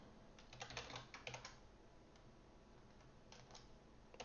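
Quiet, close typing on a computer keyboard: two quick clusters of clicking keystrokes early on, a pause with a stray tap, then another short burst near the end, with no one talking.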